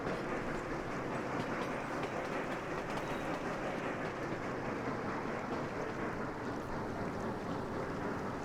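A train rolls along in the railway-building game Sweet Transit, a steady, dense rumble with faint rhythmic clatter holding at an even level throughout, with no talk over it.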